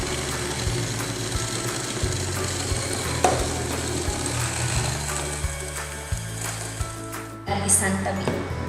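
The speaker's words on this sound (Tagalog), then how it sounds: "Batihin ang pulang itlog. At ihalo ang asukal hanggang sa magsama mabuti." Egg yolks and sugar being beaten together in a bowl for a chiffon roll, a steady rhythmic scraping and clinking of the whisk running throughout, close and moderately loud, with a voice talking over it.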